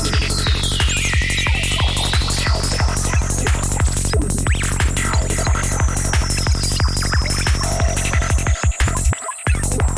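A psytrance synthesizer tone run through a frequency shifter pulses steadily over a driving low beat, with a sweeping, rising and falling high whine across the whole stretch; loud, dense and continuous, with no talk.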